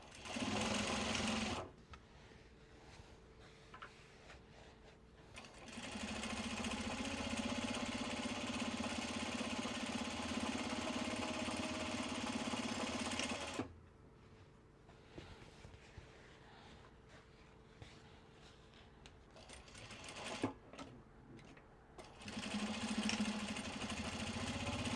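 A sewing machine stitches Japanese fabric bags, whirring steadily in long runs of several seconds broken by quiet pauses. It is close and fairly loud, with no talking.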